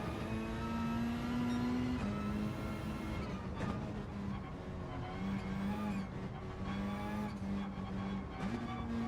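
Race car in a racing video game at Trial Mountain drones continuously as it slides and skids under the handbrake, engine pitch dipping and rising with tire noise, steady and close.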